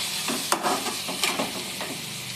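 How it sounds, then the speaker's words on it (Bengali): Fish and potatoes dropped into a pan of frying spice paste, giving a steady close sizzle with a few sharp spattering bursts and stirring scrapes, no talking. "এবার আমি মাছ আর আলুটা দেবো।"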